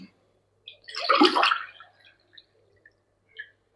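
Water pours into a cooking pot of biryani with basmati rice, a short splashing gush lasting under a second, followed by a few faint drips in a quiet kitchen.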